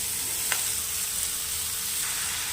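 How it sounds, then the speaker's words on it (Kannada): Onions fry in a pan with cooked greens just added, giving a steady, close hiss of sizzling oil with a couple of faint spatula clicks. "ಓಕೆ, ಈರುಳ್ಳಿ ಈಗ ಚೆನ್ನಾಗಿ ಫ್ರೈ ಆಗಿದೆ."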